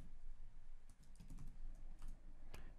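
Typing on a computer keyboard while entering a name, a quiet irregular patter of key clicks in short bursts against a faint steady background.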